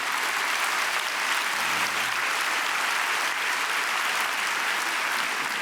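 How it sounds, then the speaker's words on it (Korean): Steady, dense applause from a large church congregation during a sermon, filling the hall evenly at moderate loudness with no voices over it. "박수로 우리 격려해 줍시다"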